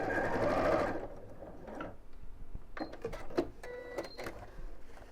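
A sewing machine stitches a simple fabric box bag with lining, a loud whirring run at first, then quieter clicks and short bursts of mechanical stitching nearby.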